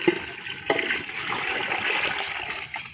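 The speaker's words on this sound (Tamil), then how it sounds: "1 கப்பு தண்ணி பச்சை தண்ணி ஊற்றிக்கிறேன்." Fresh water poured into a pot of mutton biryani masala cooking over a village wood-fired stove, a short, loud rushing splash heard close up with no speech.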